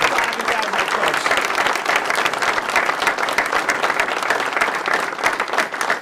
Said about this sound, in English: round of applause for the new Senior White Valley head coach